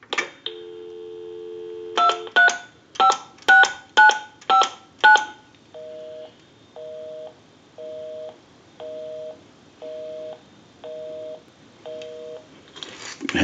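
A single-slot payphone, repaired and converted, dials out in quick touch-tone bursts, then a steady busy signal pulses in even, regularly spaced beeps, close and clear with no talking.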